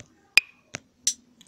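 A clap sample previewed in the GrooveMixer beat-making app on Android, sounding as a few short, sharp, isolated hits with silence between them, crisp and dry.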